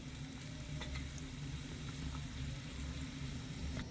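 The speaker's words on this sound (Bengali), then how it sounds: "আমি নিমকিগুলো তেলে ছেড়ে দেব কড়াইটা ধরে এভাবে করে একটু ঝাঁকিয়ে দেবো" Nimki snacks frying in oil over low heat give a soft, even sizzle with light bubbling crackle, steady and fairly quiet.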